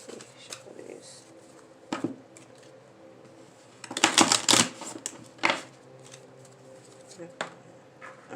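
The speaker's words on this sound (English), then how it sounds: "Let me shuffle these." A deck of tarot cards being shuffled, heard as scattered soft flicks and a brief burst of riffling close by, while someone talks throughout.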